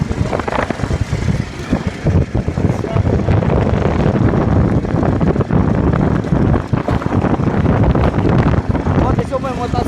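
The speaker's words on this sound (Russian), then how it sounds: "Ветер сильный какой-то." Strong wind roars and buffets the microphone outdoors in a village, a loud constant rush that nearly fills the recording, with talk partly buried beneath it.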